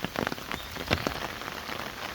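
Steady rain patters on surfaces along the Bonghwasan barrier-free walking trail, a continuous close hiss broken by brief louder drops, with no voices.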